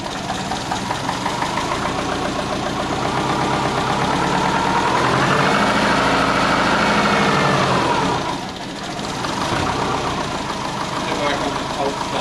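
A big-turbo Subaru Forester engine idles with a lumpy, uneven burble that swells and dips briefly, heard close and steady throughout.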